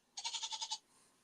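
A pet cat gives a goat-like bleat, a run of about six quick wavering pulses in one rising-and-falling call, near and fairly loud, with no talk over it.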